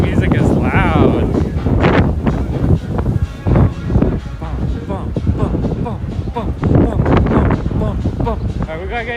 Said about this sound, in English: It's like crazy wind.